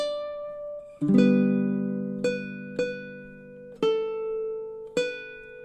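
A baritone ukulele plays the opening measure of a song, a plucked note followed by a strummed chord and several more picked notes ringing out, close and unaccompanied.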